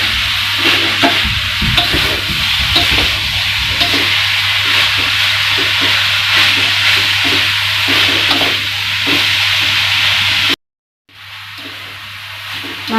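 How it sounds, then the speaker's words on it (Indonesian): Stir-frying in a pan for spicy stuffed tofu: a spatula scrapes back and forth in a steady rhythm over a loud, constant sizzle and hum, with a brief break of silence near the end. "ini kita tumis sampai matang ya"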